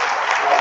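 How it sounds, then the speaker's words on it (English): Audience applause for a local chair at a Texas Mexican American studies summit, a steady dense wash of clapping that fills the short moment without pause. "a big round of applause for Leo Trevino"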